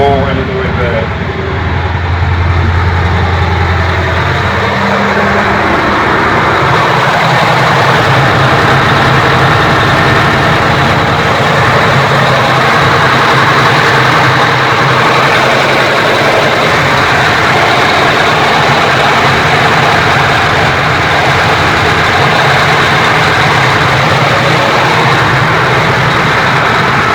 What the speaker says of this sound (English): I always go check the engines after I turn them on